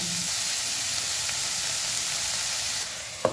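Bread pasta sizzles steadily in a pan over a gas flame, a constant close frying hiss with a brief clink near the end and no voices.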